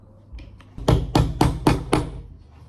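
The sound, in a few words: hammer striking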